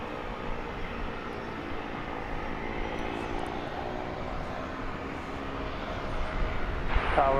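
An American Airlines Airbus A321 jet bound for San Francisco roars at DFW Airport, a steady broadband engine rumble that holds level and swells slightly louder toward the end.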